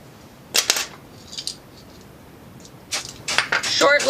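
Short bursts of hair color spray hissing from an aerosol can onto a wig, a couple of quick sharp sprays followed by a longer cluster of bursts, close and fairly loud.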